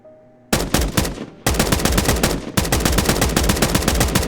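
Rapid gunfire from a semi-automatic weapon in Escape from Duckov, clicked fast enough to sound almost fully automatic, loud and close, in three bursts of dense, evenly spaced shots with no talking.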